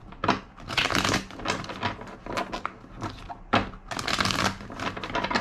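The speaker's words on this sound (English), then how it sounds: "Two more shuffles." Deck of cards being shuffled repeatedly during a tarot-style reading, giving close, loud riffling and crisp flapping bursts in two main runs with a brief pause between.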